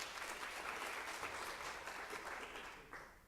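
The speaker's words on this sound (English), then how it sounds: "Clap if you've had people in your classroom." Audience applause fills a college staff gathering, a steady broad wash of many hands clapping at close range that holds for several seconds and tapers off toward the end.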